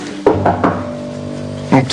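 Knocking on a door, a few close wooden raps with a pause between them, heard over a steady musical tone.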